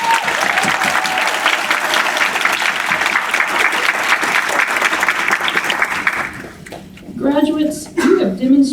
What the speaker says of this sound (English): Can we give these groups a big round of applause?